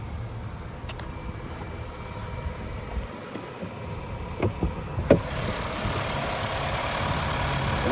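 A 2021 Nissan Altima's 2.5-liter naturally aspirated four-cylinder engine idles steadily at a low hum, with a few faint clicks and knocks over the constant rumble.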